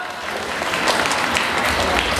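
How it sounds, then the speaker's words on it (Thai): An audience at a sunscreen product launch event applauds as a guest expert is welcomed, the clapping steady and fairly loud and swelling slightly toward the end. "ขอเสียงปรบมือครับ"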